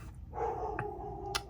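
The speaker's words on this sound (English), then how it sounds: "there's my doggy agreeing that it's nice" A dog barks once or twice nearby indoors, a short, fairly quiet yip-like bark with no talking over it.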